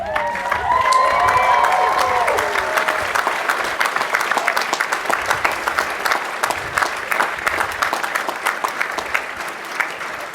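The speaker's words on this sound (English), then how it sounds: "give them a round of applause for all the help that they gave you" College graduates at an undergraduate commencement applaud their families in a large crowd, sustained clapping with some cheers and whoops, loudest at the start and slowly thinning toward the end.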